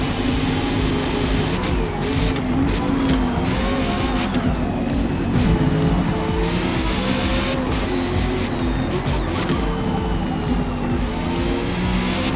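Engine roar of a 1976 Chevrolet Corvette race car in the Forza Motorsport game, fighting for a podium position at Sunset Peninsula, with tire squeal, steady and loud throughout, plus passing cars and no talk.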